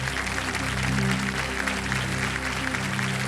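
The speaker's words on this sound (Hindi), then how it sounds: "एक बार फिर तालियों के साथ आपका हम स्वागत करते हैं" Studio audience applause on a televised quiz show set, a steady dense clapping wash that fills the whole moment under a sustained musical tone, with no talking over it.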